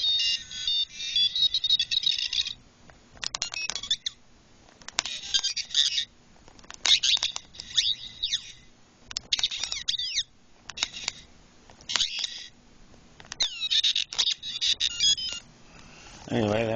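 A Star Wars action figure toy plays electronic effects: repeated bursts of high bleeps, warbling chirps and sliding tones, separated by short gaps over about seventeen seconds, close and clear.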